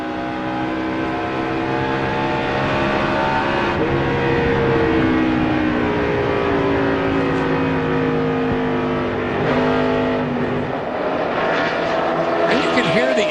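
A NASCAR stock car engine lugging hard at Pocono during the 2005 Pocono 500, a dense sustained drone with shifting harmonic lines throughout, heard under continuous commentary and crowd-level ambience.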